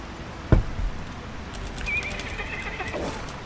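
A horse in the Lord of the Rings Online game gives a sharp thud and then a short, high neigh, with faint game ambience and chirps in the background.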